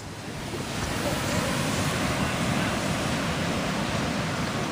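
Ocean surf rolls onto the beach at Ocean City as a continuous broad wash of waves, loud and close, with wind buffeting the microphone throughout.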